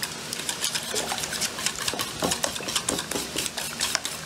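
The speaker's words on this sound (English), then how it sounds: "And we'll mix it until the whole mixture become a little bit white." Eggs being whisked with sugar and salt in a bowl for a pineapple clafoutis: quick, steady clinking and scraping strokes, close and continuous, with no voices.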